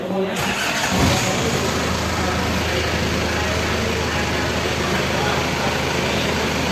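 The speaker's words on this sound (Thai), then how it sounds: "ต่อไปสตาร์ทเครื่องยนต์ครับ" Car engine cranking and catching in a workshop during an electrical-system test, then settling straight into a steady, fairly loud idle hum that runs on without a break.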